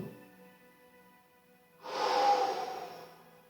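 A single deep breath drawn in a seated yoga stretch during a home workout. It starts as a soft, quiet intake and swells into a fuller, breathy exhale that fades out over a couple of seconds, with no talking.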